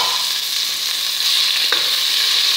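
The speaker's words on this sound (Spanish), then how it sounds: "Dejamos ahí que se fría la carne un momento." Ground beef frying in olive oil in a pan, a steady bright sizzle with one brief stir or scrape partway through, close up with no talking.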